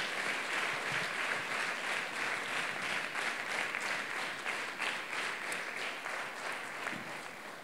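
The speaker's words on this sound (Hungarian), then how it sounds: "Minden esetre egy nagy tapssal mindezt a szépséget kívánjuk nektek." Audience applause fills a school jubilee event hall, a sustained, even patter of many hands clapping together that slowly fades toward the end, with no voices over it.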